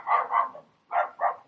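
A dog barks four times in two quick pairs with a short pause between them, sharp and close with no talking.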